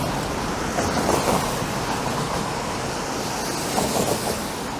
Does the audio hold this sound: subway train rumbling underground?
yes